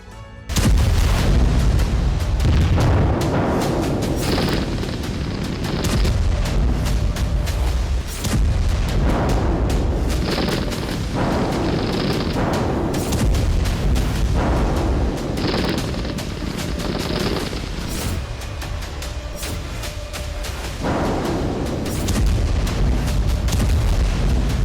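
Bombing in Gaza: heavy explosions boom again and again, each blast followed by a rumbling tail, coming roughly every few seconds over a dense, continuous roar.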